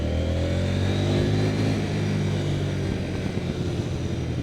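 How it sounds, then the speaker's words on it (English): A 2025 Husqvarna Vitpilen 801 motorcycle ridden on the road, its engine droning steadily with harmonic tones that ease off, and a soft exhaust burble emerging under wind rush toward the end. "Little burble from the exhaust there I just heard."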